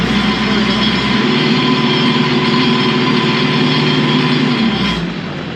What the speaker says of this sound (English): By the way, is that engine not just a delight to listen to?